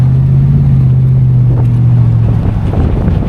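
Steady low engine drone from a 1967 Oldsmobile Delta 88 convertible cruising with the top down, given some throttle, with wind rumble, continuous and fairly loud, no voices.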